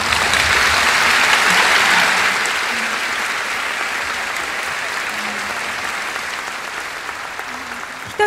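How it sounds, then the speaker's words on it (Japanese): A large audience applauds at a Japanese lecture event, a dense, steady wash of clapping that swells early and then holds slightly softer to the end with no voices over it. "もう一度大きな拍手をお願いいたします。"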